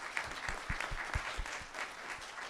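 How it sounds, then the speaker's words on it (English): An audience applauds the panelists at a speaker-series event, a short burst of moderately distant clapping from a modest crowd. "let's have a nice round of applause for our panelists for tonight"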